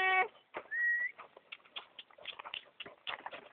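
Several horses are nearby: rhythmic hoof clops and soft snorting and shuffling, with a brief whistle-like tone at the start.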